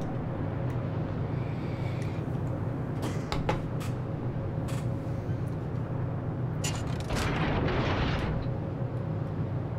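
Artillery fire support in a video game thunders as muffled explosions, with heavy bursts clustered in the middle and again near the end over a constant low rumble and hum.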